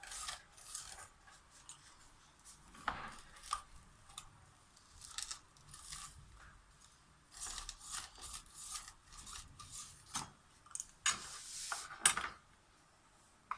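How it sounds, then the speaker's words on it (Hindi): A crispy layered potato paratha is cut into pieces on a board, giving faint, scattered crunchy cracks and scraping knife strokes, irregular and close, with no talk over them. "आपको कटिंग करके दिखाते हैं। माशाल्लाह से देखिए कितना क्रिस्पी है, आपको आवाज़ आ रही होगी।"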